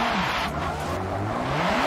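A car drives and drifts in the Forza video game, its engine droning loud and continuous with rising and falling pitch and a smeared tire-squeal texture throughout.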